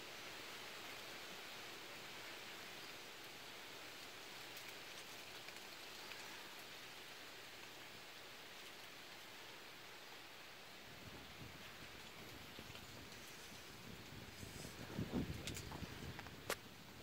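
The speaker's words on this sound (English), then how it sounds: "Well, it started to rain a little bit." Light rain patters steadily and faintly around a roadside bungalow shelter in Phang Nga, Thailand, a soft continuous hiss of drops with a slight rise of nearer splatter toward the end; no one speaks.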